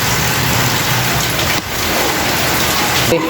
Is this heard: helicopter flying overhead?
no